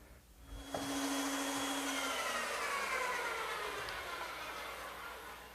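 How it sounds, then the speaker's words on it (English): A woodworking bandsaw starts up abruptly with a loud whining roar and runs steadily while cutting a 1x6 board for a curved slat, the tone sliding slowly downward and easing off toward the end. "I'll cut it on my bandsaw"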